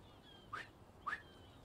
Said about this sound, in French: Tu siffles comme une merde, Peter.